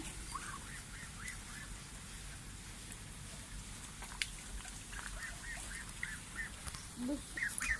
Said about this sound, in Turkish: Burada değişik ördekler var, kazlar var.